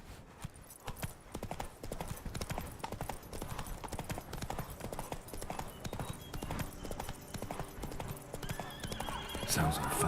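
Roach, Geralt's horse in The Witcher 3, gallops with rapid, close hoofbeats and neighs, the drumming rhythm running throughout under game ambience and swelling louder near the end.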